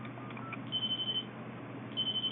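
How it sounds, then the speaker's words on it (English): A headset telephone on a hospital phone line rings in repeated short electronic bursts, a faint trill sounding twice over a steady low hum, with no talking. "That's the headset phone ringing."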